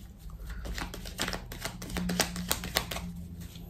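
Tarot cards being handled and laid out, a run of close, crisp flicks and soft slaps in an uneven rhythm against quiet room tone, with no talking.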